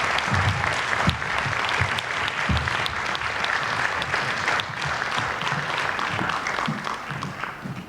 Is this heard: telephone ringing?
no